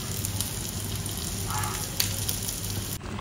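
Pomfret fish curry simmers in a pot on a gas stove, giving off a steady bubbling sizzle, close and moderately loud, with no talking over it.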